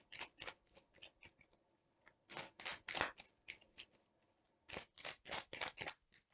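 A deck of tarot cards is cut and shuffled by hand, giving quick, crisp snapping riffles in close bursts with short pauses between, near and clear in a quiet room.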